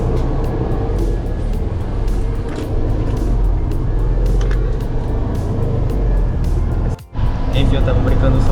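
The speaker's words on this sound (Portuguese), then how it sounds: "Esse aí é o meu bonde que eu pego todo dia" A tram pulls into a stop in Germany, its loud, close rumble and rolling noise holding steady for several seconds before a brief drop and a return.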